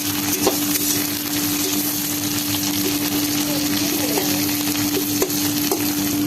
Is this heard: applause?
no